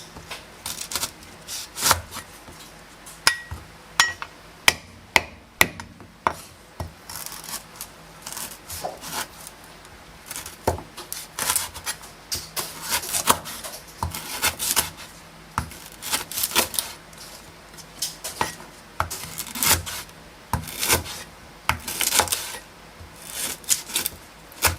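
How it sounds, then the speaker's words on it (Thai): Lemongrass stalks are pounded and then cut with a knife on a board, producing sharp, irregular knocks and chopping strikes, loud and close throughout. "พยายามทุบตะไคร้นะคะให้แตกๆนิดนึงนะคะเพื่อที่จะเอาคุณค่าทางยาออกมานะคะนี่นะคะทุบเลยค่ะ"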